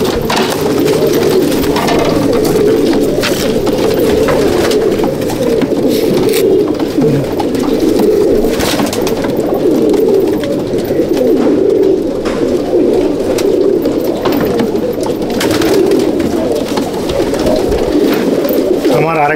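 Jiriya pigeons in a loft coo continuously at close range, overlapping soft throaty warbles forming a dense, steady chorus throughout.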